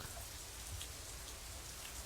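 Steady rain from a visual novel video game, a soft, even patter of drops on a surface with low rumble underneath, faint and continuous throughout.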